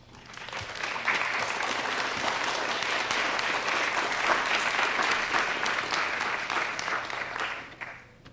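Sustained applause from an audience welcoming Dr. James Prescott at a Notre Dame symposium, steady and full for several seconds before tapering off at the end.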